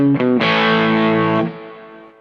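An electric guitar through a Wampler Paisley Deluxe drive pedal on its more aggressive channel 1 rings out one loud, gritty chord after a quick pick, then decays over about two seconds.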